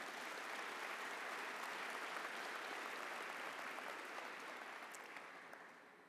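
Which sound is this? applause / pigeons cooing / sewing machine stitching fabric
applause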